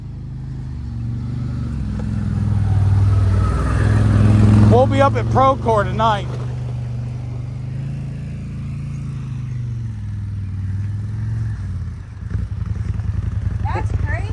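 A 2023 Gen 2 CFMoto ZForce 950 side-by-side with an RNG clutch kit idling close by in a yard, a steady low engine hum running throughout while people talk over it.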